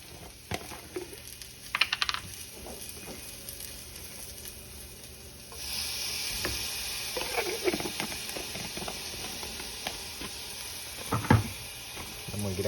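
Minced garlic sizzling in a generous amount of butter in a pan, a soft steady hiss that grows louder midway, with occasional scraping and utensil clicks.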